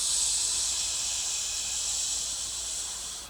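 A voice imitates a soft snake hiss in a lung-cleansing breathing exercise, producing one steady, breathy hiss that holds for about three seconds and fades slightly at the end, close and alone.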